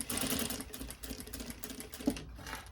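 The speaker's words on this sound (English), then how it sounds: "Around the thumb, I'm going to sew up on an angle to this particular seam here." A sewing machine stitches a seam at an angle around a thumb section, a fast, even mechanical whirr of needle strokes heard up close, alone and quiet, pausing briefly near the end.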